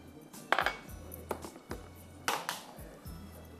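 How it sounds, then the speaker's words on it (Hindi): A spoon or whisk knocks and scrapes around a bowl as batter ingredients with baking powder and lemon juice are mixed, giving repeated clinks and taps at an uneven rhythm, close and fairly quiet, without speech. "बस सबको अच्छी तरह मिक्स करेंगे।"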